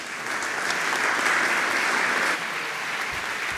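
Sustained applause from a conference audience for a task force, a dense, loud clatter of many hands that swells, then eases slightly and carries on to the end.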